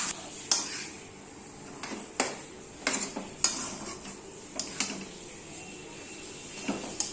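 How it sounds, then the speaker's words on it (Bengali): Chowmein with tomato sauce being stirred in a pan, with intermittent sharp clinks and scrapes of a spatula against the metal over a faint sizzle, close but fairly quiet and with no talk. "এরপর আমি চাউমিনটা দিয়ে দিলাম, দিয়ে ভালো করে নাড়াতে হবে"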